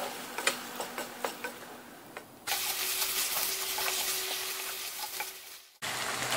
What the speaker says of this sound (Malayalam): ഇനി ഇതിലേക്ക് വേവിച്ച് വെച്ച ബീഫ് ഇതിലേക്ക് ഇട്ട് കൊടുക്കുക. എന്നിട്ട് നല്ലപോലെ ഒന്ന് മിക്സാക്കി കൊടുക്കുക.